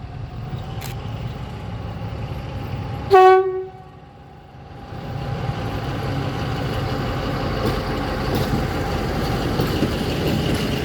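A train horn sounds once, loud and close, then a steady rumble of rolling wagons with faint clickety-clack builds as the train pulls away.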